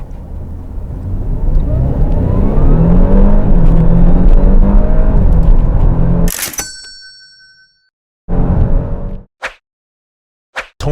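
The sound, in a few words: car engine revving at full throttle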